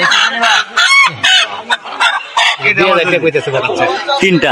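Chickens, roosters and other fowl at a village poultry market in a hilly border area, with clucking and honking calls close by, mixed with bargaining voices throughout.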